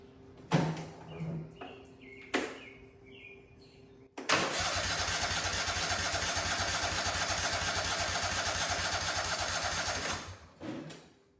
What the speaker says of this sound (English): let's hit the key and I don't know, maybe it'll sit here and idle